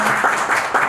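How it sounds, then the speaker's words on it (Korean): A short burst of audience applause greets a speaker at a Korean business and technology talk, a brief, loud and close rush of many hands clapping. "박수로 환영해 주시기 바랍니다"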